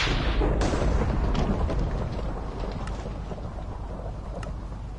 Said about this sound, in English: Let's get rid of the rain and thunder, because that's really loud and tends to make me jump